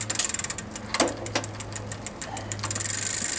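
A 1956 Raleigh Superb bicycle's hub gears turn and engage in low gear, producing a steady mechanical ticking and whirring with faint clicks, heard close and alone without talk.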